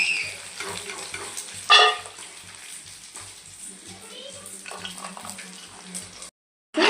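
Pasta chips fry in a small amount of oil, a steady soft sizzle with faint crackles running under a person talking, briefly louder near the start, then cutting to silence.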